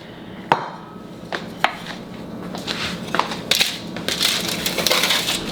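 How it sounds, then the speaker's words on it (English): Cooked rice being chopped up inside a container, a series of sharp scraping and crushing knocks at irregular intervals, fairly close and moderately loud, with no talking over it. "You don't have to smash it in there. I'm just trying to chop it up."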